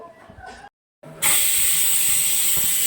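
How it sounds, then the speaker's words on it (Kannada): A pressure cooker whistles loudly while greens and lentils cook; after a short silence a strong, steady high steam hiss starts abruptly and runs on without a break. "ಈಗ ವಿಷಲ್ ಆಗ್ತಾ ಇದೆ."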